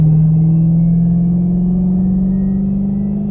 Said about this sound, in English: But just listen to the blower a little bit.